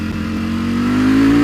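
A Ducati V4 Speciale motorcycle engine revs while being ridden in low gear, a close, loud growl whose pitch climbs smoothly over about a second and a half, with no talk.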